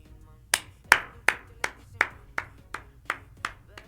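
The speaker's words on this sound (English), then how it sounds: "Round of applause." Slow, spaced hand claps, about ten in a row, crisp and fairly close, with a slight echo after each.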